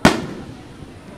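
A single loud firework bursts overhead at a summer city fireworks festival in Tottori, Japan: a sharp boom opens, then a long crackling rumble fades away.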